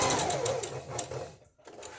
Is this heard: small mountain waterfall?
no